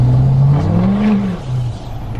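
An L5P diesel pickup truck driving, its engine a loud low drone from inside the cab that rises briefly in pitch and then settles back.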